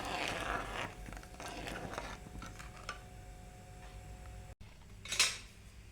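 Payasam being stirred in a pot after sugar and cardamom go in, with soft scraping and metallic spoon clinks against the vessel, fairly quiet and close, without any talking.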